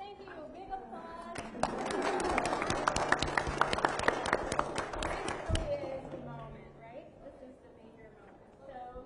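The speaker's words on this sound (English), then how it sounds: "Big applause." A small audience in an educational workshop on intercultural dialogue breaks into applause: a few seconds of dense, crisp clapping that swells, holds, then tapers off, with faint voices murmuring underneath.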